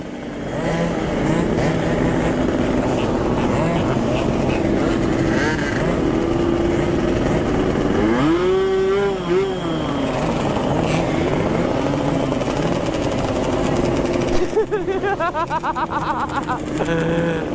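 Two-stroke motorcycles rev at a crowded gathering, with engines buzzing and crackling continuously. A loud nearby rev rises and falls midway, and another sharp burst comes near the end over a dense background of many bikes.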